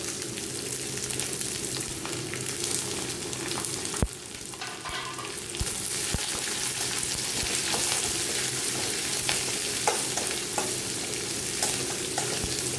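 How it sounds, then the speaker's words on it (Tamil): Chopped onions frying over a medium flame in a pan for mint rice, a loud, steady sizzle broken by scraping stirs and the occasional clack of a spatula, with no voices. "வெங்காயத்தை சேர்த்துட்டு நல்லா வெங்காயத்தை வதக்கி விட்டுருங்க அடுப்பை மீடியம் ஃப்ளேம்லேயே வச்சுருங்க"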